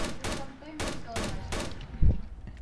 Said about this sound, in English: If you hold down the trigger, you can fire it in automatic